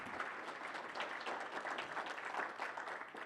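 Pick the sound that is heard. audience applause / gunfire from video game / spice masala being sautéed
audience applause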